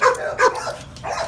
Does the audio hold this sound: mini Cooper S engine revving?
no